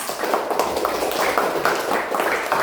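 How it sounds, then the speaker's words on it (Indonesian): Classroom applause for a student group in an Islamic religious education lesson, a steady continuous patter of many hands clapping at moderate loudness with no talk over it. "berikan tepuk tangan untuk kelompok 3"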